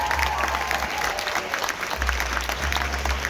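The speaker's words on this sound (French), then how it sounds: "j'aimerais maintenant qu'on s'applaudisse une dernière fois" A graduation audience applauds the finishing class, dense steady crowd clapping throughout with a low rumble underneath.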